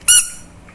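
A rubber duck squeeze toy from the Wildwood Boardwalk gives one short, loud, high-pitched squeak close by, followed by quiet.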